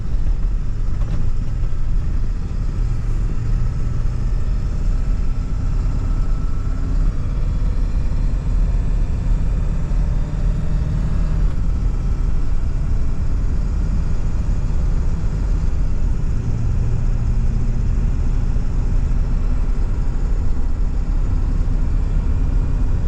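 A 2002 Ford Excursion Limited with a 7.3L Powerstroke diesel and 4WD is driven on the road. A steady, loud cabin drone of engine and road noise continues without a break, and no distinct gear change stands out.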